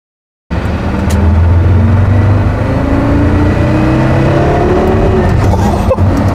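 A Porsche Carrera GT's engine pulls hard at about quarter throttle from the driver's seat, a loud, continuous rising drone with climbing pitch and no one speaking.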